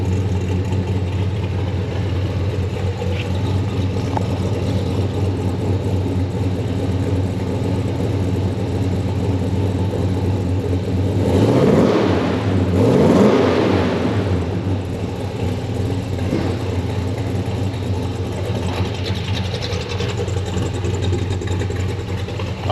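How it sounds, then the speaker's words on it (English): A 1968 Chevelle's engine idles with a steady, deep rumble, briefly revving up twice in the middle before settling back to idle; no one talks over it. "The engine sounds good."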